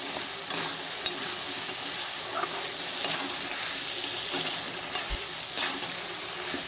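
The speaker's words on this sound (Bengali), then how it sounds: "এই যে এখন কাঁচামরিচ আর টমাটারটা দিয়ে দেবো। এটা ভালো করে কষাই নেবো" Green chilies and tomato fry in a pan on a Bengali home stove for a taro-leaf dish, a steady soft sizzle with occasional stirring clicks and scrapes.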